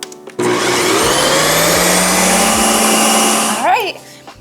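A 7-in-1 ice cream maker respins frozen yogurt with a loud, steady whirring motor that starts abruptly and runs evenly, then rises briefly in pitch before cutting off.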